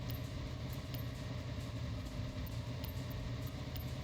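A Lamborghini Sian Roadster idles in Forza Horizon 6, a low, even engine hum with a faint regular pulse, held steady for a few seconds.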